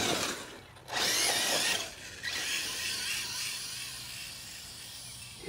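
A 6S LiPo-powered RC truck drives through tall grass, its motor whirring in a strong, broadband rush that surges loud, dips, then settles into a steady close drone with no talk.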